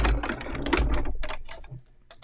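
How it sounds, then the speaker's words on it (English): A die cut machine running a card through, making a quick burst of mechanical clicking and rattling that fades out after about two seconds, close and fairly loud with no talk. "So I am going to run this one over to my die cut machine."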